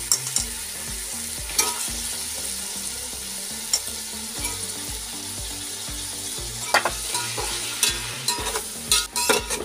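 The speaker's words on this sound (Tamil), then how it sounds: "சிக்கனை சேர்த்து நல்லா மிக்ஸ் பண்ணுவோம்." Chicken is stirred into sizzling masala in a frying pan, with a constant frying hiss under irregular scraping and clinking of the spoon against the pan.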